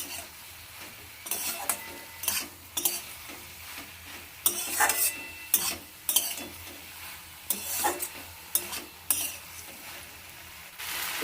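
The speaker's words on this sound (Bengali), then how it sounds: "যতক্ষণ এই মশলা এই তরকারি থেকে তেল না ছাড়বে ততক্ষণ সমানে কষাবো গ্যাসটাকে মিডিয়ামে রেখে" Masala curry for a bata fish dish being stirred and fried over a medium gas flame: repeated scraping strokes of a spatula against the pan in an uneven rhythm over a low continuous sizzle, fairly close.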